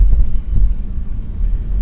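A repaired car drives along, a low rumbling engine and road drone heard from inside, steady and fairly loud with light wind buffeting, no voices.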